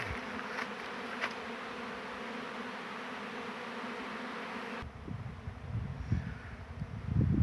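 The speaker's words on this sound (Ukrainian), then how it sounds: "Бачите, як працює, бджола працює." A steady, continuous hum of many honeybees working a flowering sunflower field nearby, with rustling and wind bumps toward the end.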